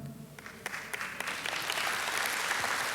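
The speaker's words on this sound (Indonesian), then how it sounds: "Oh kalau mau tepuk tangan dong." A church congregation breaks into applause during a sermon, scattered claps at first that swell into dense, lively clapping filling the hall.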